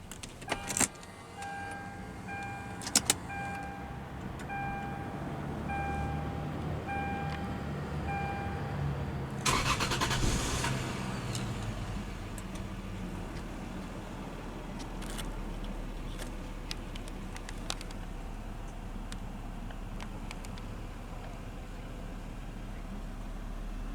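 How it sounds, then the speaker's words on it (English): A 2000 Lexus GS 300 sounds a few chime tones, then a brief cranking burst as the engine starts. A steady low idle hum settles in and continues to the end. "let's go ahead and start the engine up"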